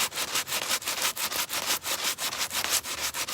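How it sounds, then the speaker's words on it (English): A metal table being sanded by hand: rapid, rhythmic rasping strokes, close and fairly loud, repeating about three times a second with no talking. "I'm just sitting here sanding the metal table."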